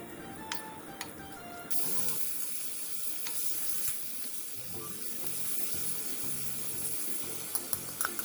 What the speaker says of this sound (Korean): 냄비에 참기름 2와 소고기를 넣고 겉면이 살짝 익을 때까지 볶아주세요.